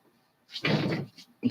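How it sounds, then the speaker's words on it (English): Storm wind tears the gutters off a neighbouring house, giving one short, loud metallic clatter and bang heard from nearby, then a quick second knock. "It's the house next door getting the gutters ripped off of it by the wind."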